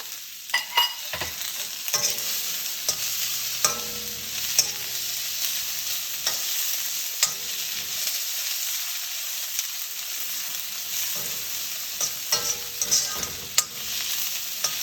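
Food fries steadily in a pan with a bright continuous sizzle, while a utensil stirs and scrapes it in irregular clicks and knocks, close up and with no talking.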